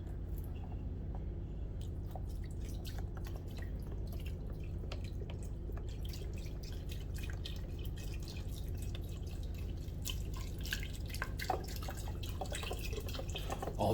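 Broth pours into an Instant Pot for keto goat quesabirria, a steady stream of liquid with drips and small splashes running for the whole stretch, close and moderately loud with no talking.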